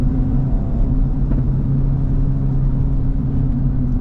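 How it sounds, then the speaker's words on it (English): Cabin noise inside a 2025 Acura Integra Type S while driving: a steady low engine and road rumble with tonal drone, fairly loud and continuous, with no talking. "the interior noise, this car inside, it is a little louder than most other cars"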